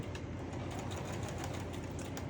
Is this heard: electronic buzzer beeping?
no